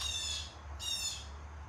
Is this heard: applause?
no